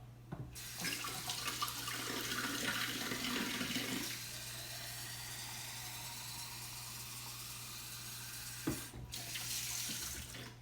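Warm water pours steadily from a kitchen tap, a continuous splashing rush that is loudest early, then settles into a steady flow before a brief clunk and a final surge near the end.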